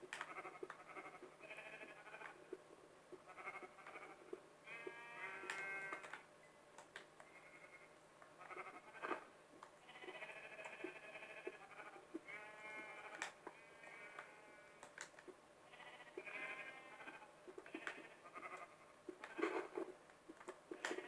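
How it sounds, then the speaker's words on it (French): Sheep bleat in Minecraft, a string of short, wavering calls from a few animals, some overlapping, over a quiet background without talk. "Là-bas, on a des moutons."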